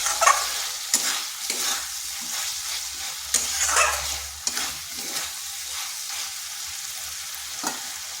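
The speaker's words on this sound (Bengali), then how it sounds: "আলুগুলোকে বেশ কিছুক্ষণ কষিয়ে নিলাম।" Potatoes stir-fried in a pan for a vegetarian jackfruit curry: a spatula scrapes and stirs in repeated irregular strokes over a soft, constant sizzle, close and fairly loud.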